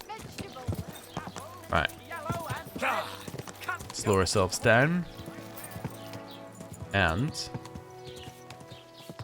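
A horse's hooves clip-clop in the video game Kingdom Come: Deliverance II, a steady walking rhythm running under frequent voices and game music throughout.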